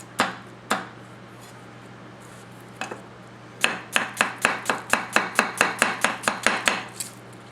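A Tojiro ITK 240mm kiritsuke gyuto knife chops straight down onto a cutting board, first in a few sparse strikes and then in a fast, even run of about fifteen crisp knocks, close and clear with no talking.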